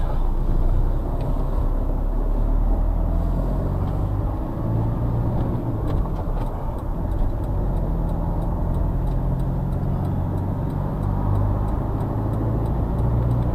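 A van with about 400,000 kilometres on it drives along, its engine running as a steady, even road drone throughout.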